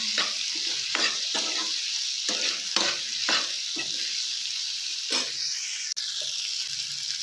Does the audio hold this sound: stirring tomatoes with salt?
yes